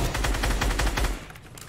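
Rapid automatic gunfire fires in a fast burst at an airdrop in Fortnite, loud and close for about a second before it cuts off, leaving a faint tail.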